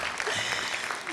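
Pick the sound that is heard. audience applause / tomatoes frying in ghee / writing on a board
audience applause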